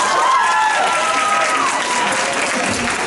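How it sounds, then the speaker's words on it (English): A comedy club audience at the Toledo Funny Bone breaks into loud, sustained applause, a dense close clatter of hands with a few cheers mixed in, fading slightly toward the end. "Clap if you don't have any kids."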